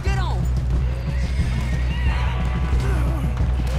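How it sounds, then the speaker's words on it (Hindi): A horse in the Western video game Red Dead Redemption 2 whinnies loudly at the start, then its hooves pound in a quick, steady galloping rhythm for the rest of the moment. "सैडी के साथ घोड़े पर बैठकर निकला जाए जहां से जल्दी"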